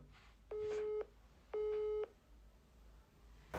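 A telephone engaged tone sounds through a phone line: two steady half-second beeps separated by a pause, clear over a faint hiss, with no talking.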